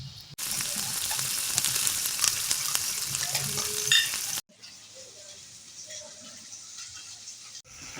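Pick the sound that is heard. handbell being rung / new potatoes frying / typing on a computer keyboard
new potatoes frying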